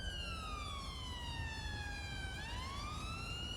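A police-style electronic siren wails steadily and loudly, its rising and falling tone sweeping down, then back up, over a constant road-noise bed with no speech.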